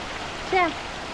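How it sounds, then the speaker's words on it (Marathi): Heavy rain falls steadily at home as a constant broadband hiss, with a brief high tonal chirp rising above it partway through. "एवढ्या जोरात पाऊस"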